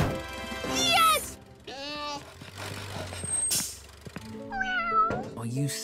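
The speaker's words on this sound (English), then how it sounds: "Oh, you silly cat, Pilchard!" A cartoon cat on a building site meows repeatedly in drawn-out, wavering cries, loud and close, with some bursts of background noise between the meows.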